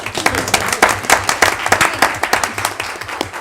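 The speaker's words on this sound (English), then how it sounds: "Round of applause" A round of applause breaks out at a city council meeting of the Board of Mayor and Aldermen after a proclamation, with dense, close clapping that rises and falls in uneven waves.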